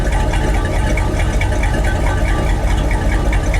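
A car with a Summit Racing two-chamber welded muffler idles. The exhaust gives a loud, steady, even burble that holds constant throughout.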